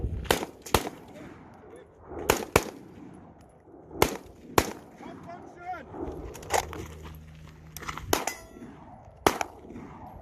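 AR-15 carbine shots ring out against steel targets, each sharp crack paired with a metallic clang, fired in irregular single and double shots across a range while voices call commands between them.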